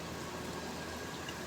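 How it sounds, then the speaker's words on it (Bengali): Rainwater falls in a steady, even hiss of broadband noise that stays constant throughout, fairly faint, with no voices. "বৃষ্টি পানি পড়তেছে।"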